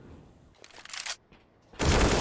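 A gunshot headshot kill during a competitive Counter-Strike match, heard as a loud, sustained burst of gunfire that erupts near the end after brief bursts of quieter in-game noise.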